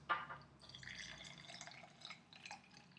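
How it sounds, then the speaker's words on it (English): Homemade hand sanitiser gel poured through a funnel into a container gives a faint, close trickle with soft drips and gurgles, quiet throughout and with no talking. "we're going to take this base of my funnel, and we're going to pour it straight in like this"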